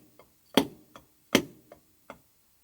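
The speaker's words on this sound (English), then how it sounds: "you play a combination of 2 Flam taps and 1 Swiss Army triplet" Drum rudiment pattern of two flam taps followed by a Swiss Army triplet, played as a seven-note grouping: sharp, close strokes with grace-note flams, two loud accented hits among softer taps, alone without talk.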